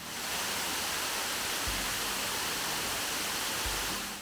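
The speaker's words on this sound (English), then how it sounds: "If folks can hear that right now, we have a very picturesque waterfall" Picturesque waterfall in the Pocono Mountains pouring steadily nearby, a dense, continuous broadband rush with no voices, with a couple of low thumps from wind or handling.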